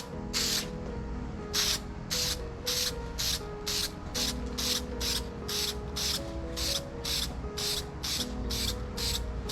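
Short hissing bursts of Plasti-Dip spray from an aerosol can lay a light tack coat onto a car wheel's spokes, about sixteen quick pulses in a steady rhythm, close and fairly loud with no talking.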